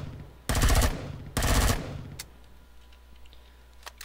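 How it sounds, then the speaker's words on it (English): Two loud sustained bursts of automatic gunfire from the sci-fi survival game Empyrion during an attack on towers, each lasting about a second, followed by a few faint scattered clicks and impacts. "And as you can see, your bullets are impacting."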